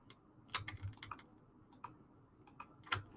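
Computer keyboard and mouse clicking in a quiet room, sharp isolated clicks in small uneven clusters separated by short silences, close and soft.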